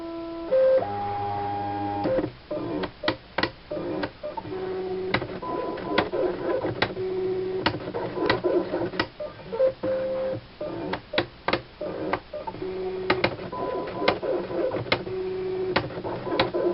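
An eCraft electronic cutting machine cuts paper fed from its tray, giving a steady motor whir broken by frequent sharp clicks and short buzzing carriage moves in an irregular rhythm, close and fairly loud, with no talking.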